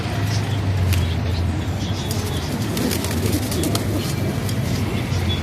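Pigeons coo in low, throaty bursts among a busy flock, with occasional wing flutters and scuffling close by.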